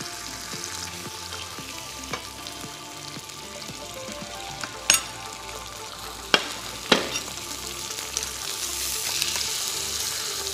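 Thin entrecôte beef steak sears in a hot pan with a steady, close sizzle and crackle, with a few sharp clinks of utensils partway through and no talking.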